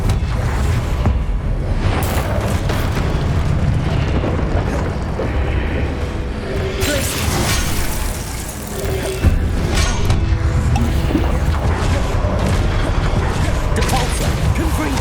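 Explosive blasting spells going off repeatedly in the video game Hogwarts Legacy, dense loud crashes and booms layered over busy combat noise with no talk.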